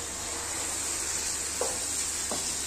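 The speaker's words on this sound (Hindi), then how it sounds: "अब मैं इसमें डालूंगी ये अपनी तोरियां, पसली वाली तोरियां।" Ridge gourds sizzle steadily in frying masala in a pan, a constant loud hiss with two brief scraping stirs near the end.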